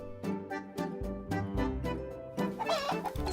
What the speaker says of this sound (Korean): 여긴 닭장인데요